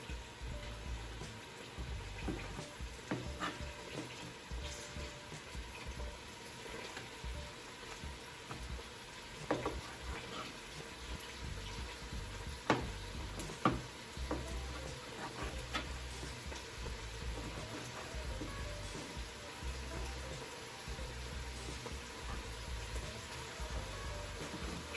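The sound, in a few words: chicken frying in an Instant Pot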